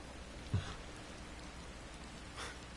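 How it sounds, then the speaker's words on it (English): Soft, steady rain falls in the video game Kingdom Hearts χ Back Cover, a quiet, even hiss with one brief muffled thump early on. "he's just chilling in the rain for no reason"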